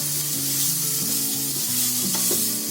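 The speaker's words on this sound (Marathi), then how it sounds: "आता हे आपले हलके फ्राय करून घ्यायचे आहे." Mushroom filling seasoned with black pepper, chili flakes and salt fries lightly in a pan, giving a steady close sizzle with soft stirring and a faint melody underneath.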